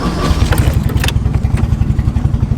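A Nissan 240SX engine running close by, a loud, lumpy, rapidly pulsing idle with a rough mechanical clatter and some brief rattling near the start.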